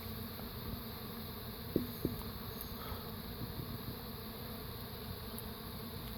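Honeybees swarm around a seven-week-old hive at feeding time, making a faint, continuous buzzing drone with a couple of small knocks near the start and no talking.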